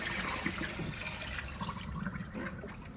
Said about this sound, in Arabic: هننزل بقى الميه بتاعتنا كده